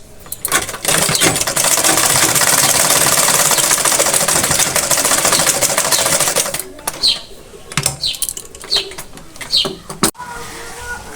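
A sewing machine runs in a steady, loud burst for about six seconds while stitching elastic onto fabric, then falls into short stop-start runs with clicks and handling noise.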